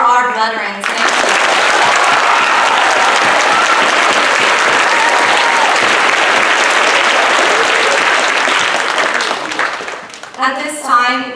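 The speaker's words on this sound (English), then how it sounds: "And also one more big applause for our veterans." At a school Veterans Day program, an audience gives veterans a long, loud round of applause that swells and sustains, then fades as a voice begins speaking at the end.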